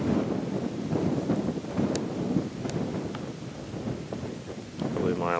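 Strong wind in the Alaskan outdoors during a moose and wolf hunt, a continuous loud roaring buffet across the microphone with gusty swells and a few faint high tones, lasting throughout.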